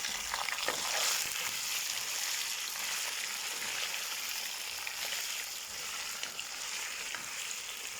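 Chicken and browned onions are stirred in a hot frying pan, a steady close sizzle with scraping spoon strokes and soft shuffling, no voices.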